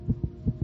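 Fast heartbeat of a young child, two close lub-dub pairs of low thumps in quick succession, near and distinct over a faint steady hum.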